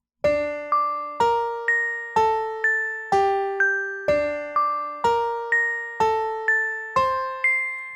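Bright, bell-like tones in a steady pattern, pairs of notes an octave apart, each struck cleanly and left ringing.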